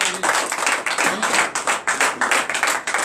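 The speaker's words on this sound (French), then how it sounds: "Donne l'acclamation à Jésus." Rhythmic group clapping, steady and loud, at a church deliverance and prophecy night service acclaiming Jesus; claps fall in an even beat with no talk over them.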